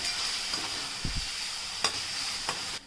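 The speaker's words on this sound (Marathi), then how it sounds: "आलं लसूण मिरची यांची पेस्ट आपल्याला थोडीफार लालसर करून घ्यायची आहे" A ginger, garlic and green chilli paste fries in a pan, making a quiet, steady sizzle broken by a few soft scraping stirs, with no voices present.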